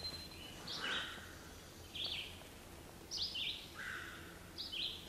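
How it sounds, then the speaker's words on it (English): Birds sing and chirp in a quiet forest along a hiking trail in a provincial park, several short bright phrases repeating at intervals over a soft, faint background hush. "Birds."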